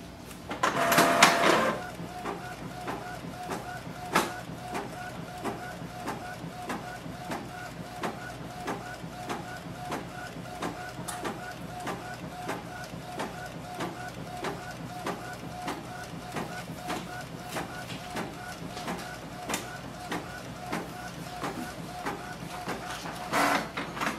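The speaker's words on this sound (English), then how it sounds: "So that's the printing." A Canon Pixma G4570 inkjet printer runs through a page, its motor whirring steadily under regular ticking and clunking of the paper feed mechanism, with a louder burst at the start; nearby and alone.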